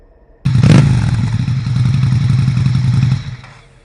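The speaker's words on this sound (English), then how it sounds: "I was jerked fully awake by the sound of an engine outside." A motorcycle engine idles outside at night, starting abruptly and holding a loud, rough low rumble with a brief rattling burst before cutting off after about three seconds.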